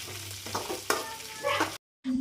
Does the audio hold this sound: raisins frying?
yes